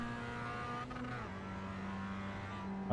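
A race car laps Laguna Seca in the iRacing sim, its engine a steady droning whine held at even revs as it drives gently on cold tires, with a sudden louder burst at the very end.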